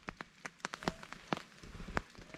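Morning rain falls outside a campsite, a steady soft patter with scattered louder drops tapping on a nearby surface, fairly faint overall.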